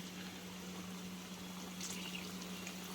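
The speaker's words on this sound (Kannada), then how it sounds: "ಮೀಡಿಯಂ ಫ್ಲೇಮ್ನಾಗ ಇಟ್ಕೊಂಡು ಕ್ರಿಸ್ಪಿ ಥರ ಫ್ರೈ ಮಾಡ್ಕೋಬೇಕು" Kodubale dough rings, made with coconut, deep-fry in hot oil over a medium flame with a steady, soft bubbling sizzle, fairly quiet and continuous, with no one talking.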